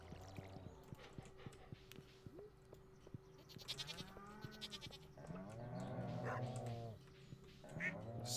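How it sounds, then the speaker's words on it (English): A dog barks in the background of the Stardew Valley farming video game, with short repeated barks mixed with other farm-animal cries over soft game audio. "Dog's barking in the back."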